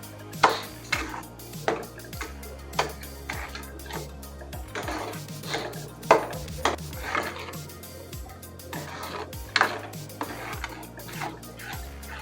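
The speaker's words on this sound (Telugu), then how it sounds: "ఇప్పుడు మొత్తం బాగా కలుపుకుందాం" Wheat semolina and sugar are stirred together in a pan for motichur laddu, with repeated close scraping and knocking of a spoon against the pan in an uneven rhythm over a low background hum, and no talking.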